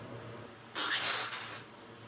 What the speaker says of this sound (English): Oh, I might need to blow my nose again.